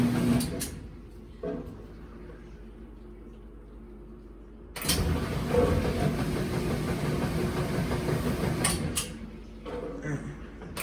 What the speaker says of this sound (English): So that's what they call a spin on an old Kenmore.